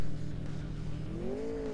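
A racing car engine in a police dino robot video game revs steadily, its pitch rising toward the end, loud and continuous with no talk.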